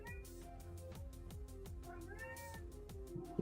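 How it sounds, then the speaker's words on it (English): A cat meowing repeatedly in a sharp, insistent, rhythmic series over low background noise, at moderate distance and fairly faint. "Meowing?"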